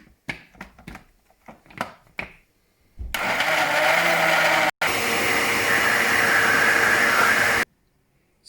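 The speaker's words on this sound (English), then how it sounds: "What I'm going to do now is I'm going to blitz everything together, including the vanilla pod" A blender loudly blitzes pumpkin, ginger, vanilla pod, orange and cream into soup, running steadily for about four and a half seconds with a brief cut, after a few sharp clicks and taps.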